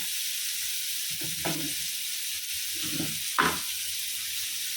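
Two big onions with salt and a pinch of turmeric sizzle steadily in a pan, broken by a few scraping stirs and a sharper clack of the spoon near the end.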